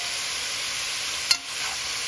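Salmon and zucchini stir-fry in a pan, giving a steady high sizzle throughout, with a brief sharp scrape of a utensil stirring midway.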